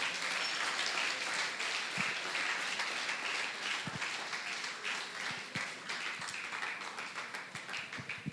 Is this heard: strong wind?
no